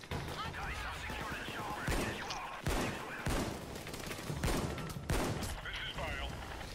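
Rapid bursts of video game gunfire crack out in several sharp volleys, layered over continuous loud chatter from players in the game.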